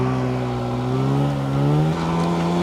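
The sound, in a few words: snowmobile engine revving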